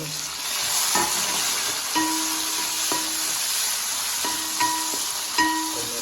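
Tomatoes go into golden-brown onions frying for a Guntur mutton pulav, with a loud continuous sizzle and regular spoon scrapes against the pan about once a second, and no talk.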